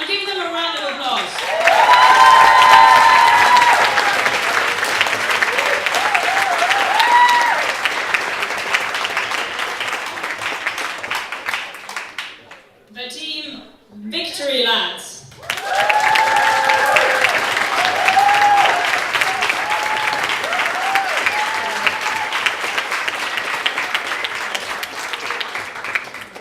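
Loud, sustained audience applause at a youth forum awards announcement as team Tony Hammond stands, dense clapping with crowd cheers and a voice over it, briefly dropping out midway before resuming strongly.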